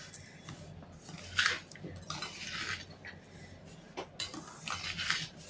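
Boiled raw mango pieces stirred into sugar in a bowl, giving soft irregular scrapes and light clinks of a spoon against the bowl, close by with no talking.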